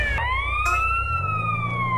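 An ambulance siren in the video game GTA San Andreas wails in a long rising and falling sweep over a low engine rumble, loud and close, with a brief clatter near the start and no talking.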